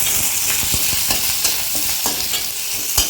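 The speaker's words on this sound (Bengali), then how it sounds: "এই যে রসুন লঙ্কা আমি এর মধ্যে তেলের মধ্যে দিই" Garlic and chili sizzle in hot oil, a steady crackling hiss broken by repeated scraping taps of stirring, close and fairly loud.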